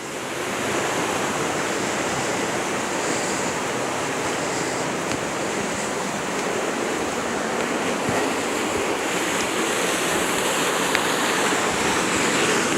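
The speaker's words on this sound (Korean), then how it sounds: "물소리 요란해요" Loud rushing water of a mountain stream on a trail past Kalbawi toward Cheonwangbong on Jirisan, a dense close roar that runs unbroken with no talk.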